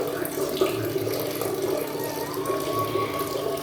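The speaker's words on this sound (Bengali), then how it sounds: "আর এদিকটা হচ্ছে আমাদের জল ভরা হচ্ছে" Tap water running into a container at home, a steady rushing splash with a rising fill tone, close and continuous, with faint talk in the background.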